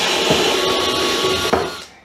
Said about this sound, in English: So we basically drill a hole opposite where the outlets are.